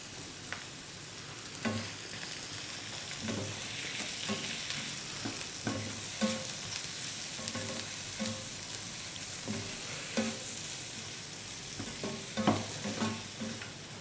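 Tomatoes fry with paprika powder in a pan, a continuous sizzle broken by repeated scraping stirs of a spoon against the pan at an irregular rhythm, with no talking.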